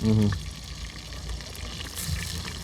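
Onions and chili frying in a pan outdoors, a steady broad sizzle throughout, opened by a brief voice and overlaid with faint background chatter.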